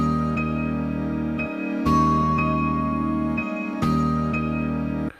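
A two-bar sample looped in mono at 121 BPM with a low-cut EQ: sustained, tonal chords with bright chiming notes, repeating the same phrase twice at an even, moderately loud level.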